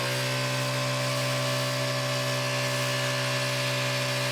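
A portable tire inflator air compressor runs steadily and loud, a constant motor drone with a strong hum and bright whine, alone without pauses.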